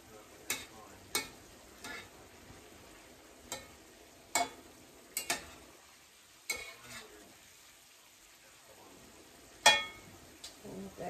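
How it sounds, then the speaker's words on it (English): A spoon stirs shepherd's pie filling simmering in broth: a low, soft bubbling sizzle broken by a string of sharp clinks and scrapes against the pot, spaced irregularly about once a second, close and fairly quiet. "I'm going to give this a little stir."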